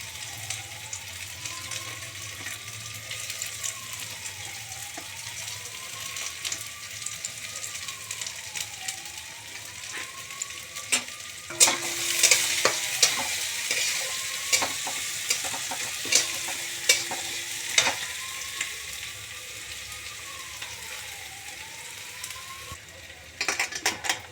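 Chopped garlic and onion fry in a pan with a constant soft sizzle, while a spatula scrapes and clinks against the metal in repeated strokes, growing busier midway, with a faint wavering whine in the background.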